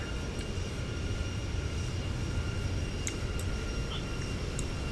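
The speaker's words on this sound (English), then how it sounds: "Listen to those engines spool up," Airliner jet engines spooling up in a flight simulator game, a steady broadband roar with faint high whine that holds level throughout, no talk over it.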